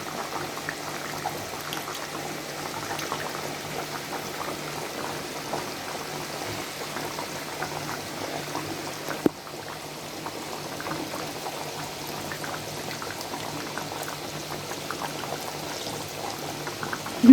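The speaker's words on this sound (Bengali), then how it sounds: "এখন আমি যে কমলাগুলোকে কেটে রাখছি সেগুলো দিয়ে দিব।" Chicken simmering with cut orange pieces in a cooking pot gives a steady bubbling, liquid sizzle through the whole stretch, with one sharp knock near the middle.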